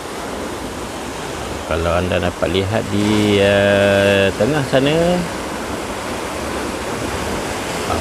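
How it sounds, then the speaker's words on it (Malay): Open-sea surf along the Tanjung Tuan coast on the Strait of Malacca washes as a continuous broadband hiss beneath a voice speaking in the middle. "Pesisiran pantai Pulau Intan di Tanjung Tuan. Beginilah pemandangannya, laut lepas."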